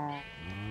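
A single short bleat from a Minecraft video game sheep, clear and close with a wavering tone, standing alone.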